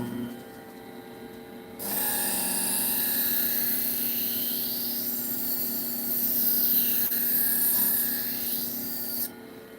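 A worn knife blade being sharpened on a grinder: a loud, continuous abrasive rasping hiss starting after a quiet moment, holding steady for about eight seconds with slight shifts in pitch, then cutting off, no talking.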